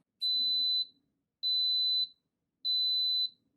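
Three steady high-pitched electronic beeps from an Instant Pot electric pressure cooker, each lasting over half a second, evenly spaced with short pauses between.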